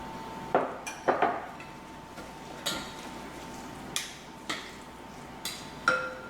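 Spaghetti with pesto sauce being served onto a plate, heard as a series of sharp metallic clinks and taps of utensils against the dish, about eight distinct knocks spread evenly, close and moderately loud, with no talking.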